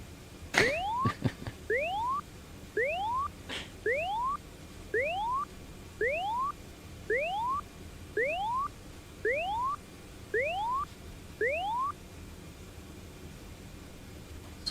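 The smoke detector test alarm in a C-130J cockpit in the DCS flight simulator sounds as a string of about eleven rising whoop tones, evenly repeated roughly once a second, loud over a steady cockpit hum after a sharp click at the start.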